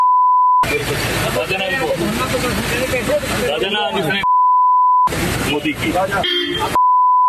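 Censorship beeps over abusive words in a Hindi political news report: a steady tone sounds at the start, between two stretches of loud speech and at the end, each time replacing the talk.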